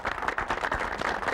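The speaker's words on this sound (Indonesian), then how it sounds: "kita beri tepuk tangan untuk grup imut" Studio audience clapping for a game show team on an Indonesian word-guessing show, a dense steady patter of many hands filling the short moment at moderate level.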